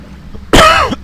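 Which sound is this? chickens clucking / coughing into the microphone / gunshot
coughing into the microphone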